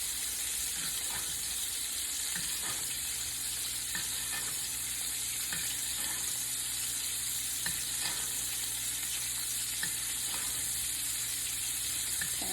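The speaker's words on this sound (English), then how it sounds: "You just don't want your butter to burn too quickly because we got to use it for basting." Steak searing with butter in a hot iron skillet gives a steady, dense sizzle and crackle, with occasional small pops and scrapes under a constant frying hiss and no talk.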